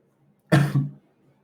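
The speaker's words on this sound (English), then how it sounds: "I got a cold last week, and I'm still coughing." A person with a cold gives a single short, loud cough close to the microphone, with quiet before and after.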